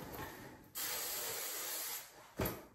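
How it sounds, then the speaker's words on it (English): Hair spray is sprayed onto curls in a close, steady hiss lasting about a second, followed by a short, sharp second burst. No one speaks. "You're not supposed to put a lot of home spray, but these curls fell yesterday"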